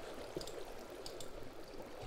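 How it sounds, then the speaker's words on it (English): Water flowing in the Minecraft video game while an infinite spring is being built, a steady soft rushing trickle running continuously and fairly faint throughout. "Need more water. And let's make an infinite spring over here."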